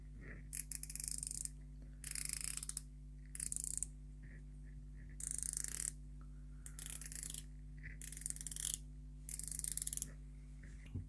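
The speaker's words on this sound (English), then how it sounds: "So it's a 120 click bezel." A Heimdallr 1KM Tuna dive watch's 120-click bezel is turned in about seven quick bursts of crisp, closely spaced ratcheting clicks, each burst separated by short pauses, heard up close with no talking.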